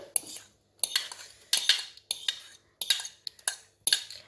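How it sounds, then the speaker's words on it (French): Mashed bananas being mixed in a large bowl with a utensil for a chocolate banana cake, a series of quick scraping and clinking strokes in an uneven rhythm, close and fairly crisp. "Une fois que les bananes sont écrasées, on mélange dans un grand bol."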